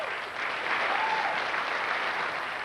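An audience at an Olivier Awards ceremony applauds for the writer of the play Popcorn, a dense, sustained wash of clapping that fills the hall evenly, loud and close.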